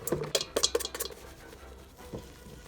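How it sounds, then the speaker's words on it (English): Egg white and sugar with a few drops of lemon juice are whisked in a bowl for gingerbread house icing, giving quick clinking, scraping strokes in a close, irregular burst that fades into softer stirring. "Let's get to whisking."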